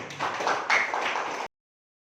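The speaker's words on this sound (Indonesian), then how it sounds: "Tepuk tangan dulu buat itu." Brief burst of applause from a seminar audience at a hotel in Makassar, lasting about a second and a half before cutting to silence.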